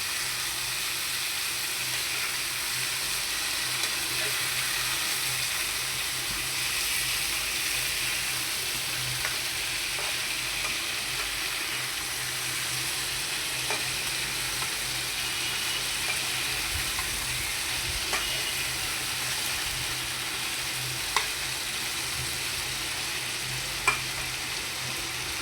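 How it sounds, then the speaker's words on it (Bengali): Potato and bitter gourd pieces fry in hot oil, giving a steady, loud sizzle that hisses continuously throughout with occasional faint pops and stirring. "প্রথমে আলু করলা আগে তেলে ভেজে নেব, যতক্ষণ পর্যন্ত লাল লাল না হয়েছে ততক্ষণ পর্যন্ত ভাজবো।"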